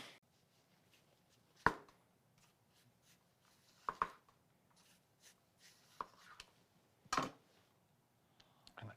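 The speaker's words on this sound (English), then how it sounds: "I'll go ahead and get a slice of onion ready" A knife slices an onion on a cutting board in a test kitchen, making a few sharp, separate cutting clicks several seconds apart against near silence.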